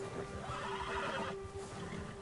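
An agitated horse in Red Dead Redemption 2 gives a loud, shrill neigh near a predator, with hoof stamping and game ambience underneath.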